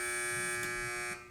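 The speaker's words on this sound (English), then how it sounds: "Teams, wait for the buzzer if you'd like to answer." A quiz competition answer buzzer during a high school math match sounds a loud, steady electronic tone for about a second before it fades, with no talking over it.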